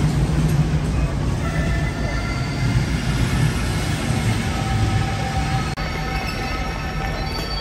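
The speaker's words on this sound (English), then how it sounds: "There's my train. It finally made it." A passenger train on the Lviv to Kyiv line rumbles loudly and steadily as it rolls into the station, with a constant low roar and a faint high metallic whine above it.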